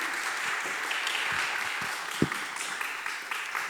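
An audience at a women's health lecture claps to welcome a gynecology professor, a steady crowd of hands at moderate volume with a few sharper individual claps standing out.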